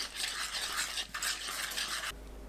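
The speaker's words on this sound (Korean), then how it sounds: "유자청, 고운 소금 3분의 1 큰술, 식초 3큰술, 연겨자 3분의 2 큰술 섞어주세요" Yuja syrup, fine salt, vinegar and mild mustard whisked together for a dressing, a brisk close stirring rattle of utensil against bowl in two quick bursts, then stopping.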